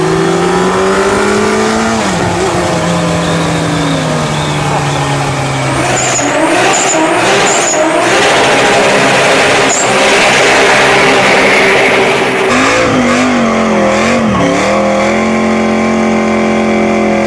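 A drifting car sends smoke pouring off its rear wheels as its engine revs hard and loud. Pitch swings rise and fall, tire squeal cuts in partway through, and no one speaks.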